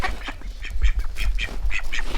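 Ducks near a farm gate and cattle feed area quacking repeatedly in short, close calls, several overlapping over low outdoor rumble.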